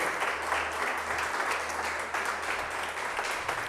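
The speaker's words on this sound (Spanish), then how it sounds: "Denle un aplauso al Señor." A church congregation applauds during a Sunday sermon, a steady dense wash of many hands clapping together at moderate level, continuous and fairly close throughout.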